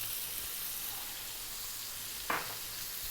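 Onion and chopped garlic frying in a small amount of oil over medium heat, a steady close hiss and sizzle throughout with one brief clink partway through.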